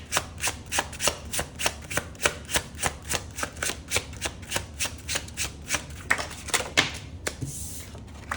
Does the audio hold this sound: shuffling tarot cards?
yes